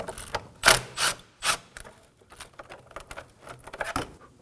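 Intake hose clamp being loosened on a 2016-2020 Kia Sorento 2.4L L4, close irregular metallic clicks and ratcheting scrapes in quick bursts.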